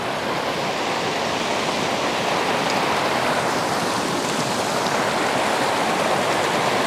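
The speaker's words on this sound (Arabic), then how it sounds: "سامعين صوت النهر؟" A mountain river near Kazbegi in Georgia's Caucasus rushes in a constant, loud, broadband roar, steady throughout with no voices over it.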